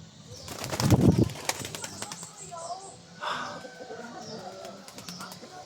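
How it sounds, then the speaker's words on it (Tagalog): Pigeon flapping its wings in a burst of loud close flutters, followed by a softer low coo and scattered small rustles. "Pagkaganda yung kalapati."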